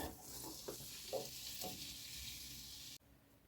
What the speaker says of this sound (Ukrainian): Цибуля смажиться